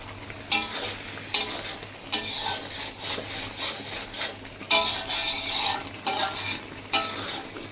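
A spiced roast cooks in oil with nutmeg, mace, and ground nut, ginger and garlic pastes, giving a loud, close sizzle and spatter punctuated by several firm stirring scrapes in the pot, with no voices.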